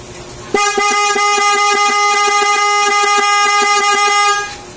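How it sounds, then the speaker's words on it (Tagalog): A Yamaha Mio Sporty scooter horn blares in one long, steady, loud honk, holding for several seconds close by before cutting off. "Busina tayo, mga sir."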